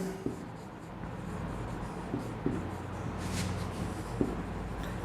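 Pen writing on paper while working a math problem, soft scratchy strokes with a few sharper taps, close and quiet against a faint steady hum.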